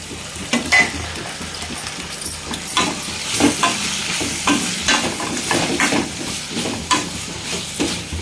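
Curry leaves and chopped tomatoes frying in a pan over medium flame, a steady sizzle broken by repeated scraping stirs of a spoon against the pan, close and unaccompanied by talk.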